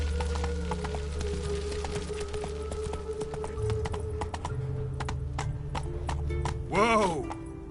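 Roach the horse gallops in The Witcher 3, with quick, steady hoofbeats close up and a loud whinny near the end.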